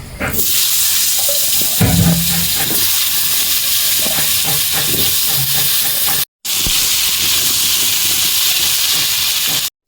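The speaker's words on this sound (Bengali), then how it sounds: "এবার আমি আলুটা ভেজে নেব।" Potatoes frying in oil for a stingray fish dish give a steady, loud broadband hiss that runs almost without pause, with one short gap near the end and no talking.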